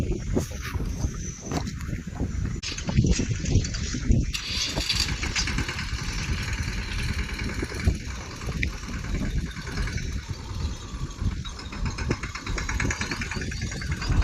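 A tractor engine chugs steadily and loudly throughout, a continuous low rumble with a rattling edge and no pauses.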